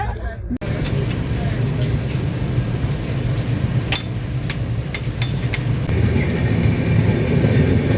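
A train rumbles steadily along while passengers ride inside. The continuous loud rolling noise carries faint clatter and indistinct background chatter throughout.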